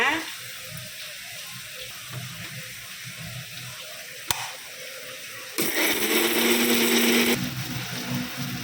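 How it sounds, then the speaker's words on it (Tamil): A kitchen mixer grinder grinds sautéed onion and garlic for a crab rasam, kicking in as a loud whirring burst for about two seconds after quieter kitchen sounds and a soft voice. "அதை எல்லாத்தையும் நல்லா அப்படியே நொறுன்னு அரைச்சிட்டோம்"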